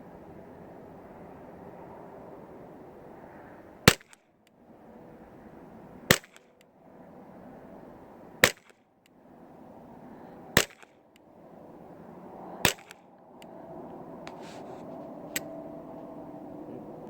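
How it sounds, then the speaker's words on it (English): Ruger 10/22 rifle with a muzzle brake firing five .22 rounds at 50 yards, sharp loud cracks spaced about two seconds apart over steady outdoor background hum. "5 rounds, 50 yards with a muzzle brake."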